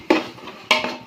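Tomatoes being stirred in a pot for chicken biryani, two short scraping clanks of a utensil against the metal, close and fairly soft, with no talking.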